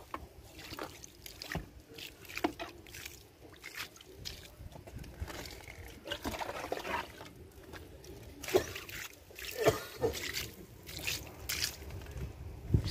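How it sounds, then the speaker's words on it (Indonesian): Water poured from a container onto soil around a newly planted kaffir lime tree in a pot, a faint trickling and splashing in irregular bursts with light background noise. "Ini aku mau siram dulu."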